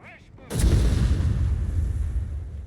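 A heavy artillery barrage from late-fuse shells in the WWII strategy game Company of Heroes 3 opens with a sudden loud boom and rolls on as a dense rumbling wash of blasts.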